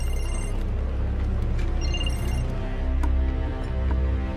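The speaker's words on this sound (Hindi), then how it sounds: "फोन आ रहा है तुम्हारा।" A telephone rings steadily over a dense, constant background of ambient noise, with no talking.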